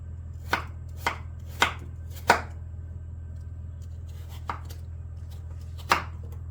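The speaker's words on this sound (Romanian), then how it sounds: "tăiem cartofii în jumătate" A knife cuts through potatoes onto a board with six sharp, close chops at an irregular pace over a low steady hum, heard alone with no talk.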